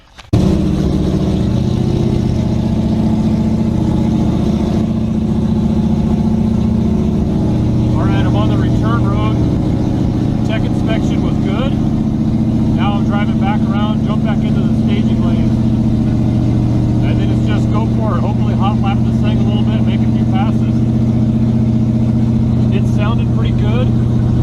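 A drag racing car engine idles close by with a loud, steady, deep drone, a low rumble holding evenly the whole time while voices talk faintly in the background.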